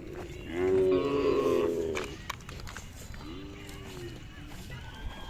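A Khillar cross cow and her young bull calf at a village fair low out in a loud, drawn-out moo followed by a shorter, softer call, with background chatter and fairground noise throughout.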